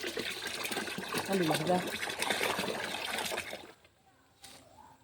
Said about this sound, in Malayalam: ഇതെല്ലാറ്റിനും കുറേശ്ശെ ഒഴിച്ച് കൊടുക്കട്ടെ